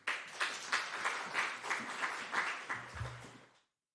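Applause from a church congregation welcoming the pastor at a special Holy Week dawn prayer service, with a steady patter of hand claps rising and falling for several seconds before cutting off abruptly.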